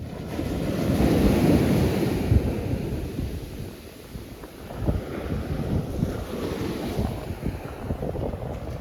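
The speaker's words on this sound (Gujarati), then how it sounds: "પાછળ છે દરિયો" Waves break on the shore at Madhupur, a low rumbling surge that swells and eases, mixed with heavy wind noise on the microphone and no voices.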